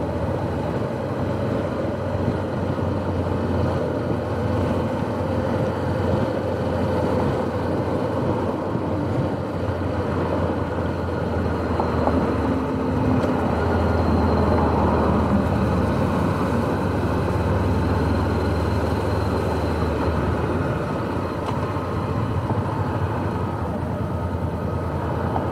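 Honda CB500X motorcycle rolling along at low speed on a morning commute, a steady low engine drone mixed with wind rush, close and continuous, with no talking.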